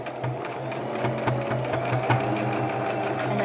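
A sewing machine stitches a fabric mask over pleats along a straight seam, running steadily with a fast repetitive mechanical chatter and periodic needle thumps, close and continuous throughout.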